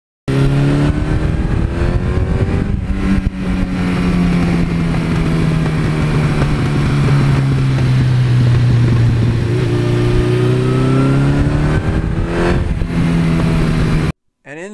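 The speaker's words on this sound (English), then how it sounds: "this bike has an 86 exhaust system that I think just has a wonderful exhaust note" A 1982 Suzuki GS1100E motorcycle engine roars loudly up close, its exhaust note rising and falling as the throttle revs and eases off, then cuts out.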